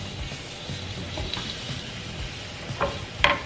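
Tomatoes, onion and garlic roasting in a pan give a low, steady sizzle with soft scraping and a couple of sharper clicks near the end, heard alone without voices.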